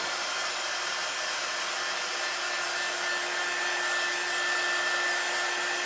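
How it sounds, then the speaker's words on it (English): A hair dryer blows steadily and alone at close range, drying chalk paste on a gnome craft project with an even, unbroken whoosh. "Then I am going to do a little drying."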